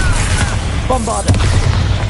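Bombarda blasting spell in Hogwarts Legacy, a booming explosion midway through amid ongoing game combat noise, with a voice briefly calling out.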